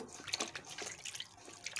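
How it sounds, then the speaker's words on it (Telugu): Peeled, deveined prawns are swished and rinsed by hand in a bowl of water, giving soft irregular sloshing and dripping splashes, close and fairly quiet. "బ్లాక్ థ్రెడ్ని కూడా తీసేసిన తర్వాత ఈ వాటర్లో అయితే మళ్ళీ ఒకసారి మంచిగా అయితే కలుపుకుంటూ"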